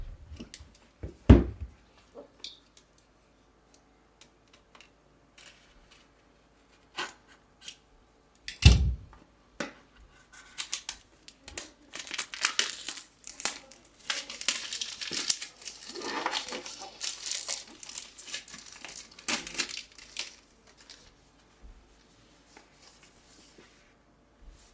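Packaging for a DJI Mic Mini wireless microphone being unboxed: close crinkling of plastic and paper, sharp cutting snips and a few thumps as the box is handled. The rustling is busy and scattered, with quiet stretches in between.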